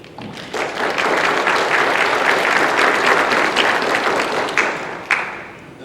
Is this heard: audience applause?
yes